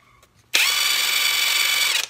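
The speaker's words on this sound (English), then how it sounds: "Now you have a drill, and you're ready to use it as a drill." A Mensela 18V 3-in-1 cordless impact wrench, set up as a drill, snaps on and whirs at full speed for about a second and a half, loud and close, then stops abruptly.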